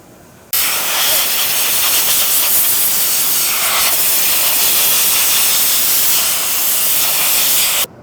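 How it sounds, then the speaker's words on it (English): A loud, steady hiss of compressed air blasts moisture off metal parts being prepped for Cerakote coating, starting abruptly and holding constant for several seconds before cutting off. "We're gonna blast off all the moisture and evaporate it."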